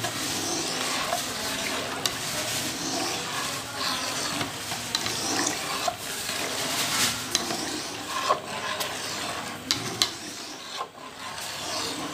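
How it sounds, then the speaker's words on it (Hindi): Sugar stirred into sandalwood sharbat in a pot, a steady scraping, rasping rub of spoon against the vessel with occasional clinks, continuing for several seconds at a moderate, close level. "अभी हमने इसके अंदर मुकम्मल जो है ना चीनी डाल ली है और इसको हिलाते जाएंगे।"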